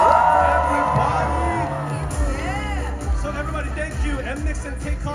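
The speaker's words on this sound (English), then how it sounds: "please give a big round of applause for NMIXX" Fans at a KCON LA 2023 pop-up talk stage cheer and shout for the K-pop group NMIXX, a lively mix of whoops, yells and crowd babble, with amplified voices heard over the noise.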